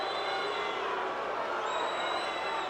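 Boxing arena crowd at the 1999 Trinidad vs De La Hoya fight, a broad continuous murmur and roar of many spectators filling the hall, steady and fairly loud with no distinct single voice.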